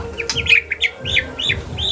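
Murai batu (white-rumped shama) chirping, a series of bright, rising whistled notes in quick succession, close by over a low background hum.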